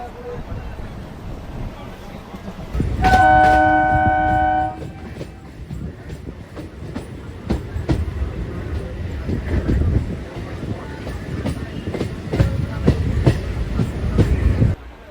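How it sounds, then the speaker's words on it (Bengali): An electric local train on the Barddhaman to Katwa line rolls along with rhythmic rattling and a long horn blast early on, the clatter continuing steadily with a voice briefly underneath. "দারুণ একটা ট্রেন জার্নি হচ্ছে"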